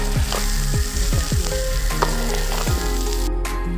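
Vegetable fried rice stir-frying in a hot pan, with a steady sizzle under repeated low thumps and scrapes from the spatula tossing the rice at an uneven rhythm, close and fairly loud.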